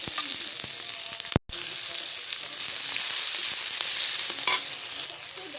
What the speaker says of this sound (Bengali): কড়াইতে আদা পেঁয়াজ কুচি দিয়ে দেবো রসুন কুচি